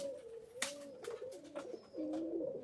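Domestic pigeons coo in low, repeated throaty phrases close by, with a sharp click or flutter partway through and a steady run of soft calls continuing to the end.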